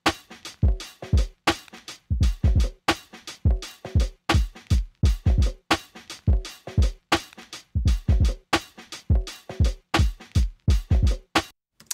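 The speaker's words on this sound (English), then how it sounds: "So let's just start by listening to the beat loop we're going to be working on" Wonky hip-hop drum loop from the Apple Loops library, punchy kicks and snappy hits in a steady, slightly swung repeating pattern, loud and clear with no voices.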